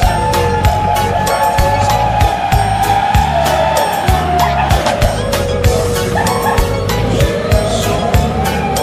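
A miniature model truck drives off at full throttle. A steady, loud motor whine rises and shifts in pitch over rhythmic rumbling pulses and sharp clicks, and a voice can be heard faintly in the background.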